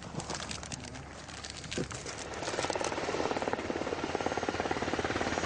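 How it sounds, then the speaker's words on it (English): Military medevac helicopter arriving to airlift a wounded soldier in Afghanistan, its rotor chop building steadily louder over a few seconds amid outdoor noise, with birds faintly audible. "A medevac chopper is called in to airlift the wounded man to a military hospital in Kandahar"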